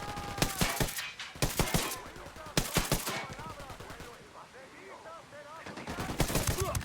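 Loud, close bursts of automatic gunfire in Ghost Recon Wildlands come in rapid repeated volleys. The shooting eases briefly in the middle, then resumes in heavy bursts.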